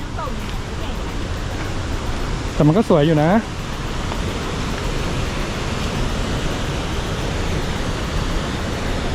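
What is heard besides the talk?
strong rushing water of stream rapids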